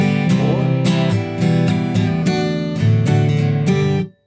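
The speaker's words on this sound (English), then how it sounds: "1-4-6-5." Guitar strumming a 1-4-6-5 chord progression, with steady, close, loud chord changes played alone for a few seconds and ending abruptly.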